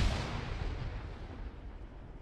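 A grenade blast in the ShackTac military video game: a loud, sharp burst at the start that rolls into a sustained low rumble and fades over about two seconds, with no voices.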